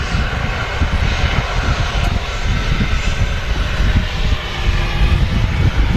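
A Ryanair jet airliner taxis at Manchester Airport after arriving from Ibiza. Its engines give a steady, loud, broad rumbling roar for the whole stretch, with no voices over it.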